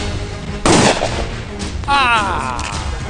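A gun fires in a Bollywood crime film scene, one loud sharp blast followed by a second burst with a ringing, wavering tail, set against a murmuring background.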